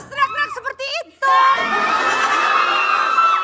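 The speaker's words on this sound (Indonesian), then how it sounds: "Hei, wanita-wanita, kenapa harus teriak-teriak seperti itu?" A studio audience of women at a morning TV variety show bursts into loud, sustained screaming and cheering after a moment of scattered voices and laughter.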